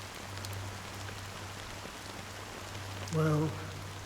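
Steady rain falls in Honkai: Star Rail, a dense even hiss that holds throughout, with a short tonal voice-like sound rising briefly near the end.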